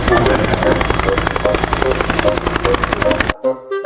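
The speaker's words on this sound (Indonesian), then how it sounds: "Yang ini ada helikopter." A toy helicopter sound effect with loud, dense whirring rotor noise and a pulsing electronic tone throughout, cutting off abruptly near the end; a voice can be heard in the background.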